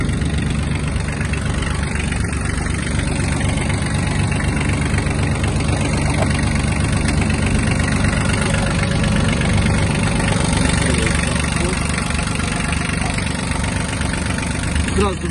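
A Kubota B1-17 mini tractor's diesel engine idles steadily in neutral throughout, a continuous low rumble with mechanical clatter, close and fairly loud, unchanging in rhythm.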